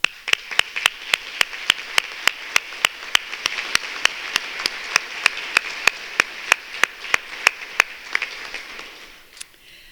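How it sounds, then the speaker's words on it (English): Applause at a 2019 Governor's Awards of Excellence ceremony comes across as sparse, crisp claps in a steady rhythm, roughly two or three per second, fairly close and evenly loud for ten seconds before trailing off. "Please join me in recognizing them with applause."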